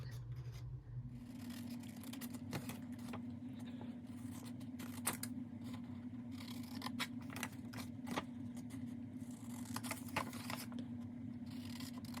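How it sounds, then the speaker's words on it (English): Scissors trim the corners of paper junk-journal pockets, with repeated snips and crisp cuts close by over a steady low hum, and no talking. "I'm going to go ahead and do all my trimming of the corners"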